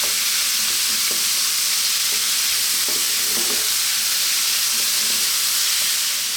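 Vegetable fried rice stir-fried over lively heat in a pan gives a steady, broad sizzling hiss throughout, with scattered scraping and stirring knocks of the utensil against the pan, close and fairly loud with no talk.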